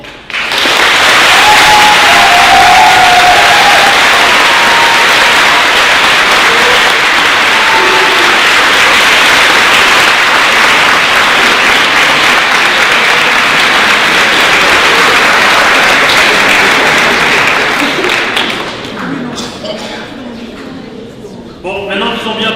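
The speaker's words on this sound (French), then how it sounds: "avec un tonnerre d'applaudissements" A large audience at a French eloquence contest gives a sustained, loud thunder of applause lasting about twenty seconds before it tapers off, with faint voices briefly audible toward the end.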